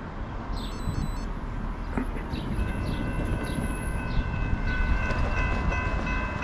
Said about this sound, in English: We got a short train coming. 56 axles, 48 miles an hour.